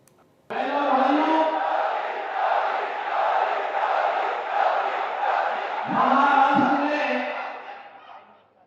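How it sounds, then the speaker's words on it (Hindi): Large crowd roaring and cheering at an election rally in Akola, Maharashtra, addressed by CM Yogi Adityanath; a dense, sustained wall of voices for about eight seconds with a few louder shouts near the end. "इस जनसभा में जोरदार भीड़ दिखाई दी है।"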